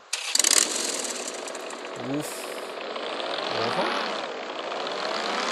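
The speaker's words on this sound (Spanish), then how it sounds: "Vamos a escuchar la moto ahora" A motorcycle engine in Free Fire MAX sputters to life and then drones steadily with a buzzing, raspy tone, fairly loud and close.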